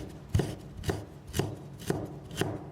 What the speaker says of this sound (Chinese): 再切成丝